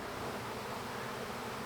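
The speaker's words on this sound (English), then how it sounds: "There's literally a bajillion bees flying around just right this spot right now" A honeybee swarm of more than twenty thousand bees rises in a cloud from a hive split a week earlier, giving a continuous, even droning hum that is soft but unbroken, with no voices.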